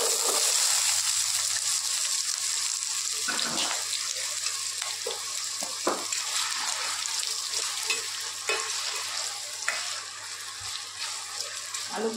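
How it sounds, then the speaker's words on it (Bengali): Potatoes fry in a pan with a steady hiss of hot oil that fills the whole stretch. Now and then a spoon stirs and knocks against the pan, close and clear, with no talk. "আলুগুলো একটু হালকা করে ভেজে নেব।"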